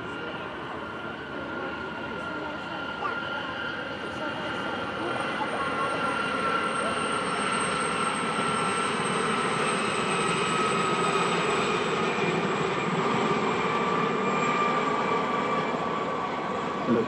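The Gazelle helicopter formation flies at an airshow in Ayr, Scotland, a continuous distant roar of rotors and engines that slowly swells louder as the aircraft approach.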